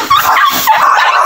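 A dog yips and whines in quick, high-pitched bursts, loud and close, with no pauses between sounds.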